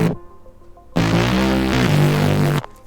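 A thick, buzzy synth bass plays a short melodic pattern of sustained notes, loud and alone, after a brief quieter intro.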